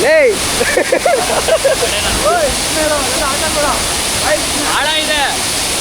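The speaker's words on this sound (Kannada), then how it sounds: "ನೋಡಿ ಇದೆ ದ ಮೈಟಿ ನಿಪ್ಲಿ ಫಾಲ್ಸ್. ಆಲ್ಮೋಸ್ಟ್ ಒಂದು 10-12 ಅಡಿಯಿಂದ ಬೀಳ್ತಾ ಇದೆ." Nippali Falls in the Western Ghats, swollen by monsoon rain, drops about 10–12 feet with a loud, constant rushing roar heard close by. People talk over the steady flow of water.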